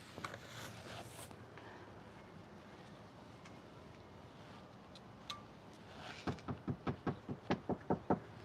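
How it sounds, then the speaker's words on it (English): A series of about nine quick, firm knocks on a door comes in a steady rhythm after several seconds of outdoor wind noise. "She heard me knock."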